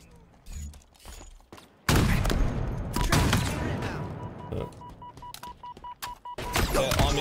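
Video game sniper fire erupts in a loud, sustained barrage of shots and booms after a quieter opening, with a repeating electronic beep tone running through the middle.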